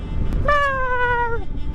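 A single drawn-out kitten meow, clear and fairly close, rising then trailing off, over a low background rumble, as the kitten leaps from under a motorcycle cover.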